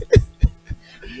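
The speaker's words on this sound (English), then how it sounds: "Did you just snort?" A person snorts during a comedy show conversation, three short sharp bursts spaced evenly, close and fairly loud with no words over them.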